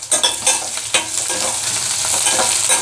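Tomatoes frying in a hot pan for a millet bele bath, with a steady loud sizzle and repeated scraping stirs of a spoon close by, and no voices.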